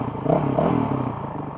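A Honda CRF 450 RL dirt bike fitted with a Vortex ECU starting up, a close, loud engine clatter and rising bark that settles toward an idle, with no voices.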